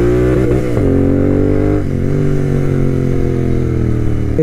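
A tuned Royal Enfield GT 650 motorcycle engine runs loud and close, a deep steady rumble that is briefly blipped upward twice before settling back, with no talk over it.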